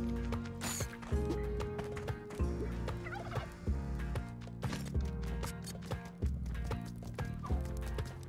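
Turkeys gobbling in the video game Spelunky 2, repeated sharp calls over a busy, loud game soundtrack with rhythmic music and clattering effects throughout.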